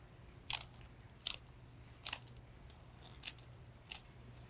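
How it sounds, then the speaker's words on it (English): Hand pruners snip through perennial foliage and stems during root division, five crisp, close clicking cuts spaced about a second apart over a faint steady hum, with no talk. "I'm going to cut off all this foliage"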